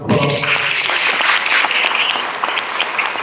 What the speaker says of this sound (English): I want everybody to give her a round of applause